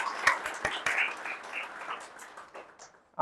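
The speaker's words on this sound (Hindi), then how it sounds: "ताली बजा से लीजिए" An audience at an indoor talk gives a short round of clapping, a few sharp claps over a soft patter that fades away within about three seconds.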